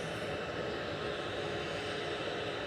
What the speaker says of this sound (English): Heading off to Cork now, flight 1863 for Ryanair, EIHGX, 737 MAX 8200.